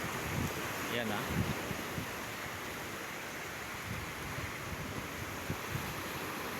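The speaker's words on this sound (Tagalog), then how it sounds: "Ang lalakas ng mga alon pero walang bagyo." Strong ocean waves roll in a steady broadband wash near a pier on a calm, stormless day, with gusts of wind buffeting the microphone and brief voices in the background.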